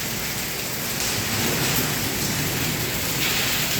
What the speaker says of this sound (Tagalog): Lakas ng ulan dito ngayon.